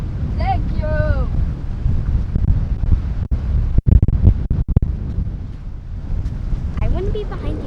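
Strong wind roars across a flooded yard, a loud steady low-frequency rush with gusty buffeting against the microphone, while people speak briefly near the start and end.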